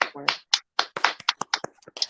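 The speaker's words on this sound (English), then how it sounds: "All right, come on, let's clap, guys." Several people clapping on a morning radio show, a run of sharp, uneven handclaps close by, with a voice chiming in over them.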